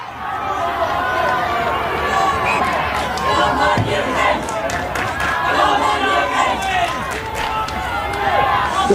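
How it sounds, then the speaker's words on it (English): A big stadium crowd roars and chatters continuously, a dense wash of massed voices at full, steady loudness with no single speaker standing out. "All of a sudden, you still hear crowds, don't you?"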